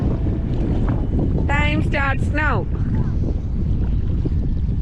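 Strong wind buffets the microphone at a beach in a constant low roar. A brief voice cuts through partway.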